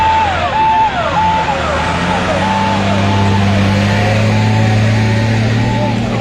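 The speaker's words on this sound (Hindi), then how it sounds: "अब पहुंची है फायर ब्रिगेड" A fire brigade engine pulls up at a factory fire, its wailing siren rising and falling steadily over a heavy engine drone and crowd noise, loud and close throughout.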